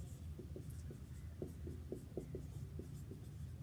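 A pen writing a final answer on a board, giving faint, close rhythmic scratching strokes in quick repeated bursts over a quiet background hum.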